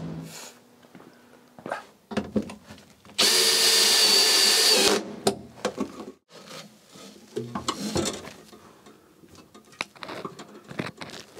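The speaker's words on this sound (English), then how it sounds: "let me drill the holes in these brackets here" Power drill boring holes in metal brackets for a fire suppression system on an MGB GT, a loud steady whine lasting about two seconds amid scattered clanks and handling noises.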